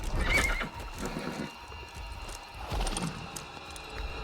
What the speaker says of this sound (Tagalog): Nakakaramdam mo yung mga kabayo.